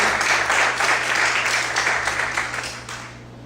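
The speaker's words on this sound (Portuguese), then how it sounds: "Quantos podem aplaudir bem forte?" Church congregation applauding loudly, a dense steady wash of clapping that holds strong and tapers slightly near the end, with a low steady hum underneath.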